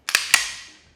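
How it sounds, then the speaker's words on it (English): The slide of a Staccato pistol is pulled back and released, producing two or three sharp, close metallic clacks in quick succession followed by a brief fading ring. "Now let's go ahead and pull the slide on this gun."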